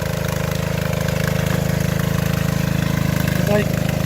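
A gasoline-powered water pump engine runs steadily nearby, a loud, even, rapid chugging drone with no change in pace, while a voice talks faintly over it.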